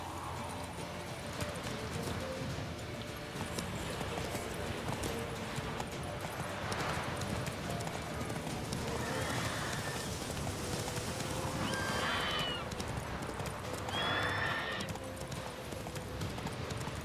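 Hooves clip-clop steadily from a horse in The Witcher 3, with a couple of short whinnies rising around the middle and near the end, all over a constant game background bed.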